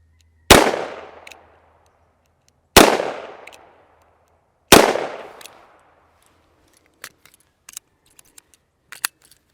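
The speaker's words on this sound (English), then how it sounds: "We'll hit it 3 times with the 22 LR first." Three sharp .22 LR rifle shots fired from a 3-inch barrel, evenly spaced about two seconds apart, each a loud crack with a short decaying tail, followed by faint clicks and rattles.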